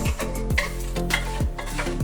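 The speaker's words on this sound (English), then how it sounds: "Then use the citrus to deglaze the pan." Lemon juice hits a hot pan with roasting vegetables and sizzles steadily, with rhythmic scraping and clinks of stirring over a constant frying hiss.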